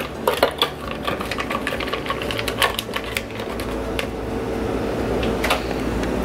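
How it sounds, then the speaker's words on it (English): A food processor blends frozen acai with a steady whirring drone and irregular clattering knocks as the frozen chunks hit the blade and bowl, heard close up with no talking. "I just pour it right into my food processor"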